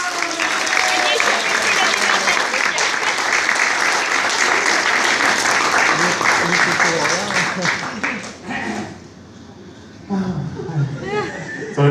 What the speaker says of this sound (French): Applaudissements pour Catherine.